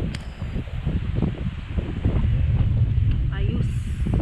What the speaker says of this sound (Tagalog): Kahit mahangin ay pinagbigyan tayo ng huli. Oh, grabe hangin oh.